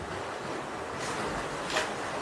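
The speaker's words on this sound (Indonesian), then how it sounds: "Nih, ombaknya datang lagi nih." Ocean waves surge onto a beach in a steady, broad wash of surf, with a brief louder swell rising near the end and some wind rumble throughout; no talking.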